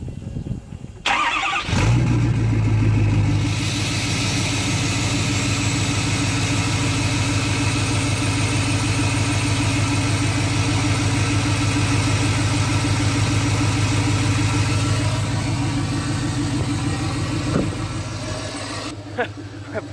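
A diesel Ford F-250 truck cold starts after a brief crank and settles into a loud, steady, rumbling idle with a clattering diesel texture that carries on close up for the rest of the clip.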